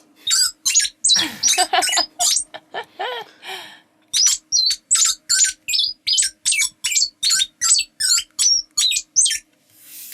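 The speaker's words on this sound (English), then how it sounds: "This is also like a robot bird." Synthesized robotic bird call made with electronic sound equipment, a rapid series of sharp, chirping electronic squawks in regular bursts, loud and close, with a brief irregular warbling passage early on and no talking.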